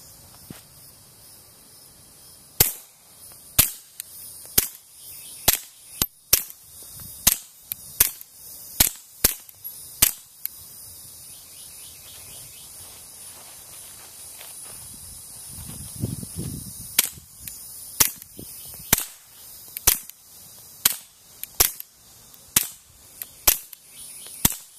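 Repeated suppressed pistol shots from a Walther pistol fitted with a Silencerco Octane 9 suppressor, firing Remington subsonic ammunition, sound as sharp, loud cracks at irregular intervals with a brief pause midway, no talking.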